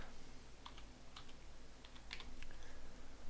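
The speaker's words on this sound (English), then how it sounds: "I'm just going to type in" Someone types a file name on a computer keyboard: a short run of close, irregular keystroke taps with no talking.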